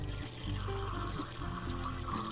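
Tap water running to fill a container for a measuring comparison: a steady, fairly quiet stream of pouring water with a continuous rushing wash, heard alone without talk.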